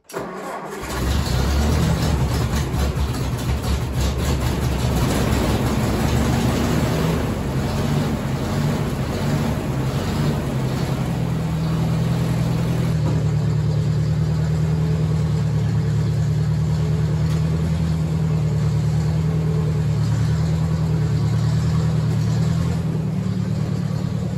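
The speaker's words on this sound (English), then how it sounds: "Remember, it is still a 6-volt tractor, and sometimes 6 volts have a little bit of trouble in the cold." An old 6-volt Workmaster tractor on choke is cranked over in the cold, catches after several seconds of churning, then settles into a steady, close, loud running idle with no voices.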